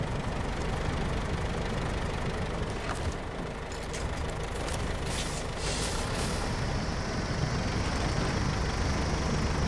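A stuck tractor's engine roars continuously under heavy load as it strains to pull free, a dense low rumble with hissing bursts from about the midpoint, sustained and loud throughout with no voices.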